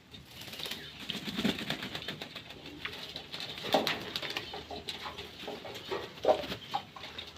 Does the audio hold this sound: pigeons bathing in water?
yes